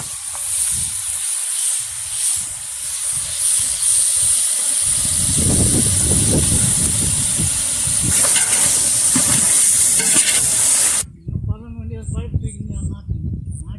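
Chopped tomatoes tipped into a hot frying pan of biryani masala for a tender coconut chicken biryani give a steady loud sizzling hiss with stirring, a voice talking underneath, before the sizzle cuts off near the end.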